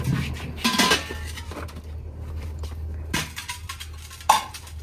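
Dishes and utensils being washed at home: close clatter of pots, plates and cutlery knocking together with running-water hiss, in uneven bursts and no talking.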